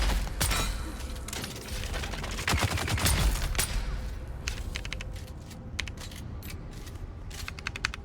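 Rapid bursts of bubble gun fire in the sci-fi game Dune: Awakening, a dense rattling fusillade of close shots with clattering mechanical clicks, steady throughout.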